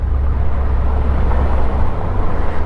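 A Caterham Seven 170 with a lightweight 660cc Suzuki engine runs at speed, a steady loud low drone mixed with heavy wind rush across the whole stretch, no talking over it.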